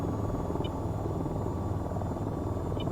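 Helicopter in the flight game VTOL VR, a steady close rotor thump and engine drone climbing in altitude, continuous and loud throughout.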